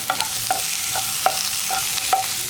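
Chopped tomatoes with curry leaves are sautéed in a pan for tomato kurma, with a steady sizzle under repeated spoon scrapes and stirring clacks every half second or so.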